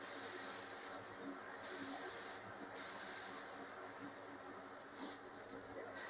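Spray paint misted in short hissing bursts onto a plastic shepherd blow mold, four or five close, steady sprays with brief pauses between them.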